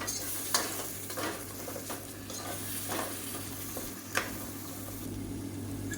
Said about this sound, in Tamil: மூணு தக்காளி மிக்சியில் அடித்து வச்சுருக்கேன் இதை சேர்த்துக்கலாம் சேர்த்துட்டு நல்லா எண்ணெய் பிரிஞ்சு வர அளவுக்கு நல்லா வதக்கி விட்டுக்கலாம்